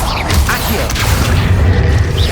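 Bombarda and Confringo spells blasting in Hogwarts Legacy, producing loud, continuous booming explosions with dense low rumble and crackling bursts throughout.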